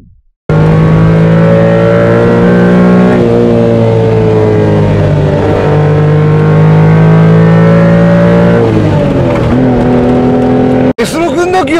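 A Honda Beat kei car's naturally aspirated engine revs high and loud while driving at a reservoir, holding a steady buzzing drone with pitch shifts at gear changes, up close and continuous for most of the clip.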